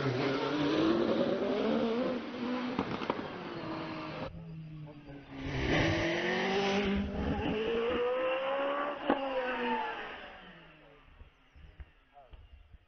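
A race car at a British Hillclimb Championship run-off accelerates up the course, its engine note rising and falling through gear changes in the distance, under continuous commentary.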